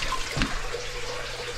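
A fish drops into backyard pond water with a single quick splash, close by, over a steady background of running or trickling water.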